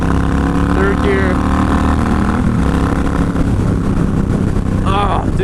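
A VTX cruiser motorcycle engine rumbles steadily while riding in third gear, a loud, continuous drone mixed with heavy wind rush from the road.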